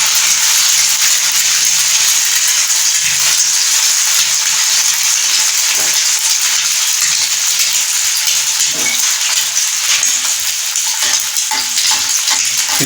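Oil sizzles and fries on a hot tawa griddle, a loud, constant, close hiss that stays steady throughout with faint scraping stirs now and then and no talking.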